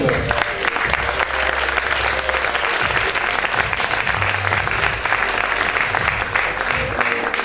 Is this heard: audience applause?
yes